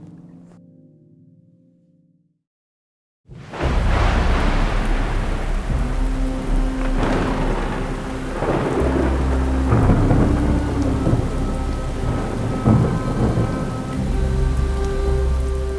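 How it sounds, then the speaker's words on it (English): A thunderstorm bursts in after a quiet moment: heavy rain pours on surfaces with a constant hiss while deep thunder rolls and rumbles repeatedly, loud and close. "There's a storm coming."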